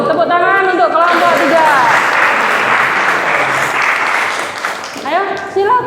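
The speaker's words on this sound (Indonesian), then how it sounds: "Tepuk tangan untuk kelompok" A classroom audience at a teaching practice session applauds a presenting group, a loud dense burst of clapping and crowd noise that swells after a voice and fades as talking resumes near the end.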